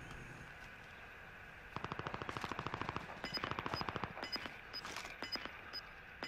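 Rapid bursts of automatic gunfire in a video game, aimed at a tower, start after a quiet stretch and rattle on in quick, dense volleys, fairly faint overall.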